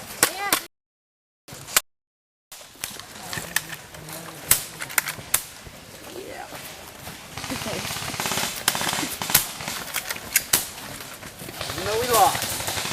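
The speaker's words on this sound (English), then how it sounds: "I like Airsoft because it's realistic guns" Airsoft guns firing in rapid bursts and single snaps during a junior league game at Sequoia Airsoft, close and sharp, with scattered voices in between.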